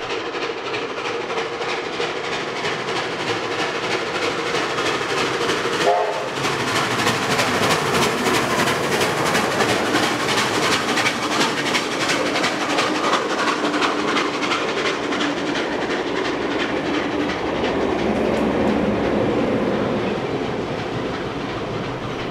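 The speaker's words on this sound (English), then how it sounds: "The loco is seen storming through Wambara heading its way to Scarbrough from Wollongong" A heavy locomotive-hauled train roars past continuously at Wombarra, New South Wales, running from Wollongong toward Scarborough, engine throbbing loudly with steady rolling wheel noise that swells and fades slightly.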